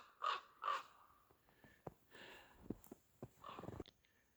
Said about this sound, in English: There's my crow friend back here. He's still following me. Oh, he's got a friend now. There's 2 of them.